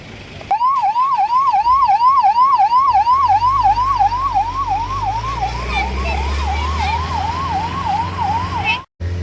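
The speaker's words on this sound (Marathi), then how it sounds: "सायरन हाँ" A fire brigade emergency vehicle siren sounds during a pre-monsoon mock drill in Bhiwandi, a loud close rising-and-falling wail repeating steadily, joined partway by a low engine rumble before cutting off abruptly near the end.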